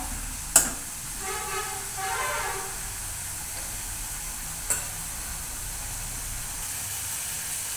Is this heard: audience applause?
no